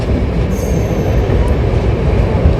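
A train passes close by near Ahmedabad, a loud steady rumble of wheels and carriages filling the whole stretch with no talking.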